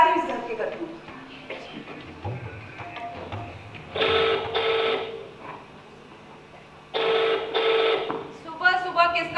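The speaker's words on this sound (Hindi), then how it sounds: "सुबह सुबह किसका फोन आ गया?" A telephone rings on stage during a live play at a festival: two loud, bright bursts of ringing separated by a pause, over a busy background of room noise and voices.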